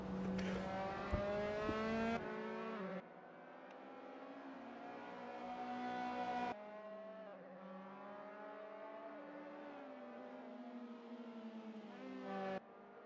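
Formula race cars on the Lusail circuit in Qatar, engines whining as they pull out of the pits, a steady rising and falling high drone from several cars, one close and loud at first, then others further off, with no talk.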